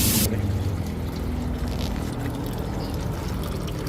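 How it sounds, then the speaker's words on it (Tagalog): Water pours and splashes steadily while aluminum parts are rinsed to wash off oil before anodizing, a continuous close trickle with no talk. "So ugasan lang natin para matanggal lahat yung mga oil"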